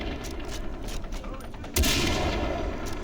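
Gunfire in the shooter game Far Cry 3, a series of rapid shots crackling in quick bursts that swell into a louder, denser volley partway through, with faint talk mixed beneath.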